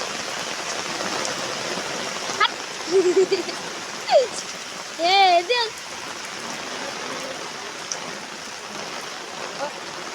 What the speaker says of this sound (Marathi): आता पाऊस पडतो जरा